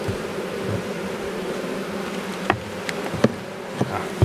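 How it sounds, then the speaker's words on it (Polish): Steady buzzing of robber honeybees close by at a hive, a continuous drone with a few bees flying past more loudly. "Nieliczne pszczoły rabujące się kręcą."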